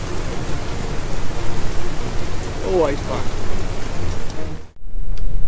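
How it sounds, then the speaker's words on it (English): Heavy rain squall pounds an anchored catamaran in Raja Ampat, a loud steady broadband roar of rain on the boat filling the whole clip, with a brief voice partway through and a short dip near the end before the downpour resumes. "in the middle of this squall where it's absolutely pissing with rain"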